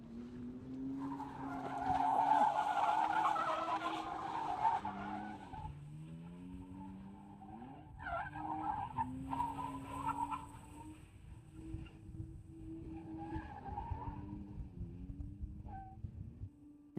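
A diesel BMW E92 drifting, with a long tire squeal and skid over the engine drone, then several shorter screeches and engine surges, heard from outside at a moderate distance.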